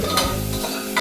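A short burst of close frying hiss as sliced onions are stirred in a hot pan for vegetable kurma, the spoon scraping through them.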